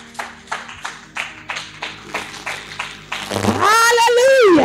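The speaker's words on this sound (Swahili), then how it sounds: "Pia Yesu makofi mazuri." A church congregation claps for Jesus during a Swahili Sunday service, about a dozen even, rhythmic claps in a steady beat before a loud voice breaks in singing or calling out over the last second.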